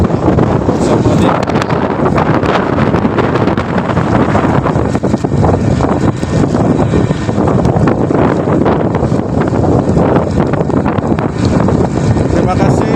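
Strong wind roars loudly and steadily across the deck of the oil bunker tanker Chung Yu No.1 as the ship rolls, a dense broadband rush with no break for the full length.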